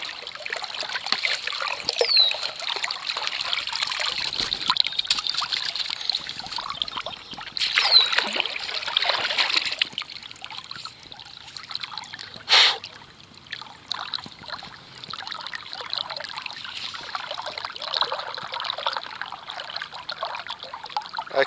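Murky swimming-hole water heard from a camera carried underwater in a pocket, a muffled continuous wash and trickle with occasional splashy bursts.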